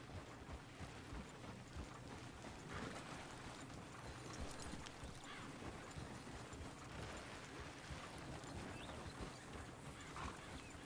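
Horse hooves clip-clop steadily in Red Dead Redemption 2 story mode, with a brief whinny amid a dense, continuous wash of ambient game sound, moderately close and without speech.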